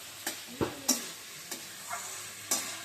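Spice masala being fried and stirred in a pan for a koi fish curry with cauliflower and potato, giving a soft steady sizzle broken by a handful of scattered scraping clicks from the spoon, quiet and close.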